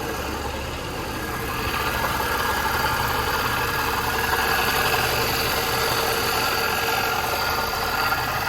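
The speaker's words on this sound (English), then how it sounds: "it's got some kind of funky noise in that engine" A Nissan car engine idles with an odd, uneven noise, a steady mid-pitched running hum carrying a faint knocking texture, close and continuous with no talking.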